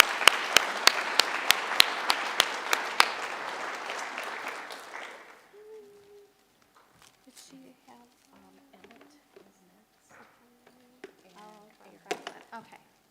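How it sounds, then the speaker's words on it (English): Hall applause at a high school senior honors night, a dense roar of clapping for about five seconds with a few sharp individual claps, then fading into quiet rustling and soft voices. "please give me a round of applause."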